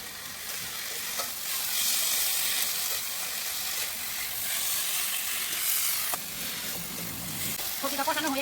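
A garlic, ginger and chili paste fries and sizzles steadily in a pan with potato and eggplant, stirred now and then with soft scraping, the hiss loud and continuous throughout.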